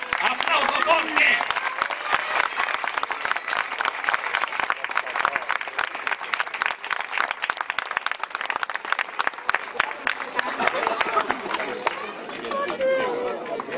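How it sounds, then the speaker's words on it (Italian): An audience at a comic horoscope show in Italian dialect claps loudly and steadily for about fourteen seconds, with dense broadband clapping and a little background chatter mixed in. "Bravissimi, applauso forte."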